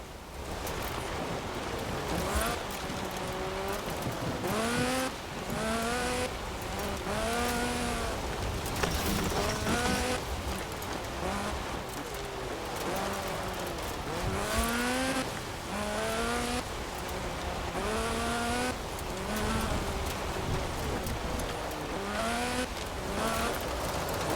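A Lotus Sunbeam with a 2.2-litre slant four-cylinder engine racing in Forza Horizon 4, its engine repeatedly revving up and shifting in rising sweeps, loud and continuous with tire and road noise beneath.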